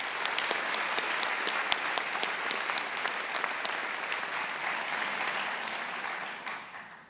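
Audience at a university investiture ceremony giving a sustained round of applause for distinguished guests, dense even clapping from a large crowd in a hall, fading out at the very end.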